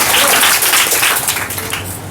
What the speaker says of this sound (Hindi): हाथों का खून ऐसे हाथों में आ जाना चाहिए, इतनी तालियां बजानी है हमने आज